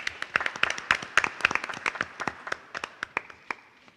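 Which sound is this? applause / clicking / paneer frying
applause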